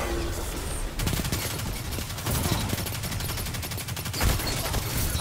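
Heavy video game gunfire bursts along with loud overlapping shots and impacts, holding steady with brief louder peaks and no break.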